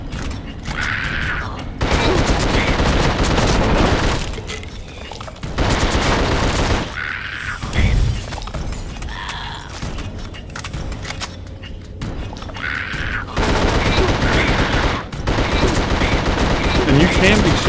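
Bursts of gunfire and mechanical clanks in the horror game The Suffering, loud and close, coming in repeated volleys separated by short lulls of rumbling ambience and creaks.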